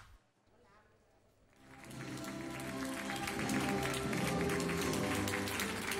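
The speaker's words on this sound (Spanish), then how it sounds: "este aplauso al unísono se produjo anoche a las puertas del Hospital Río Carrión en Palencia" Healthcare workers outside Hospital Río Carrión in Palencia applaud in unison. The clapping swells from quiet into steady, rhythmic, fairly loud applause that continues to the end, with voices audible in the background.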